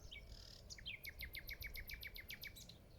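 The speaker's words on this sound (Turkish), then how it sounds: "kuş seslerini dinleteceğim de." A bird sings a fast series of bright, repeated chirps in a regular rhythm, fairly close, over a quiet, low outdoor rumble.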